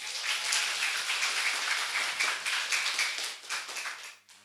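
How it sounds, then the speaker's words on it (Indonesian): Students at a school orientation podcast session clap together as an audience, a steady patter of many hands lasting several seconds before tapering off near the end. "Ayo tepuk tangannya dong."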